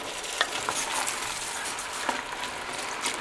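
Vegetables for minestrone soup, including spinach and beans, stirred in a pot aboard a boat, giving a soft, quiet scraping and wet shuffling with a few light clinks, steady throughout with no voices.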